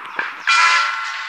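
Train in the video game Train Construction World, a brief horn-like tonal blast that swells up and holds steadily before easing off slightly.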